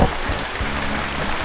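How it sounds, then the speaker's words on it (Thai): Rain falls as a steady, dense hiss with a few soft patters on a surface, loud and close, with no voices over the short stretch. "ฝนตก"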